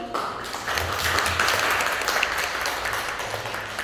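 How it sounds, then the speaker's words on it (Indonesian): Audience applause after a presentation at a tax-inclusion technical guidance forum for lecturers, a steady crowd clapping that swells quickly and holds for several seconds, fairly close, with no voices over it. "Mungkin bisa kasih tepuk tangan atas materi yang telah disampaikan tadi."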